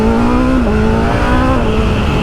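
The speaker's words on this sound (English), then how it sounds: "the way this engine works, when you just give her a few revs and a bit of freedom" BMW M1000R motorcycle engine revving loud and close, a sustained high-pitched four-cylinder howl with the pitch dipping and rising slightly as the throttle is worked, no voices.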